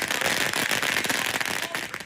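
Firecrackers explode in rapid, continuous strings at the Yanshui Beehive Fireworks festival in Tainan during a Lantern Festival procession, a loud, dense crackle of overlapping bangs that never pauses, close by.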